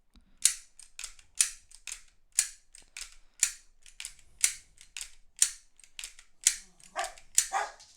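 Sharp mechanical clacks of an airsoft gas blowback pistol slide being racked back and forth, about fifteen crisp snaps in a steady rhythm, close and loud, no talking.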